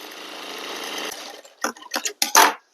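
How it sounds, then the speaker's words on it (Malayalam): A sewing machine stitches the front piece of a kurti, a steady rapid whirring run that stops after about a second, followed by a few soft clicks and fabric handling sounds. "അപ്പൊ നമ്മളിത് താഴെ നിന്ന് അടിച്ചു പോവുകയാണ്"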